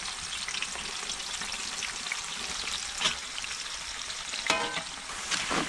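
Chopped jackfruit frying in hot oil, a dense continuous crackling sizzle with occasional louder pops and stirring scrapes, close and steady throughout.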